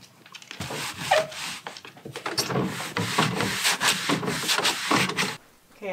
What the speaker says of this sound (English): I'm just scrubbing these down with a little bit of vinegar and a little bit of dish soap.